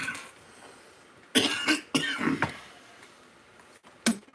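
A man coughs in several harsh, close bursts, a pair and then a few more, with one final short cough after a pause, against a quiet background.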